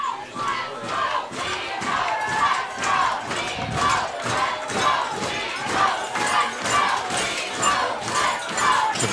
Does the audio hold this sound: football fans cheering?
yes